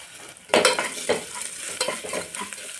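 Onions and spices fry in a pan with a close, crackling sizzle, broken by several sharp bursts as the mix is stirred and tossed.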